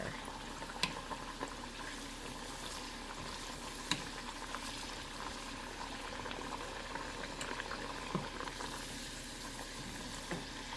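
Steady, close sizzling and bubbling of potatoes frying in hot oil for French fries, a constant crackling hiss with occasional sharper pops.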